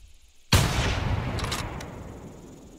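A single loud gunshot rings out in a video game, fired at a T-rex, with a sharp onset and a long fading echo behind it. No voices are heard.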